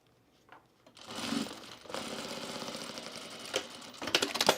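A sewing machine stitches the last seam of a boxy fabric bag, starting after a quiet moment and then running in close, rapid bursts with brief pauses and a final speed-up.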